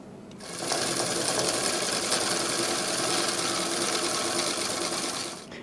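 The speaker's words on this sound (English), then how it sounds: "I'm going to test the motor" A small homemade electric motor with brass contacts starts up and runs steadily at close range, giving a continuous buzzing whir that holds at an even level before cutting off near the end, with no speech.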